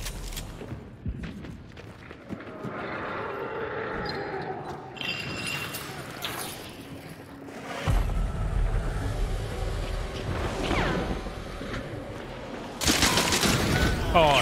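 Rifle gunfire in Hunt: Showdown, with loud broadband blasts near the start and at the end and heavy rumbling echoes in between, mixed with game ambience and players talking.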